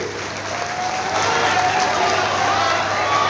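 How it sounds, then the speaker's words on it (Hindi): A crowd at an election rally claps in a dense, steady burst of applause that swells slightly and holds, filling the space without a break. "जोरदार ताली मेरे भाई के लिए बजाइए"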